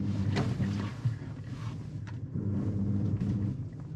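A 2021 Ford Ranger Tremor pickup backing up in reverse off-road, its low engine rumble steady and close with slight rises in revs and a few knocks of gravel and terrain.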